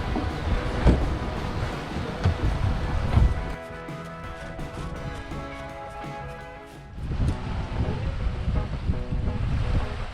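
Boat running across choppy sea waves near the Ninepin islands, with hull slaps, water rush and wind buffeting the microphone; a louder stretch early, a calmer middle, then rougher water again.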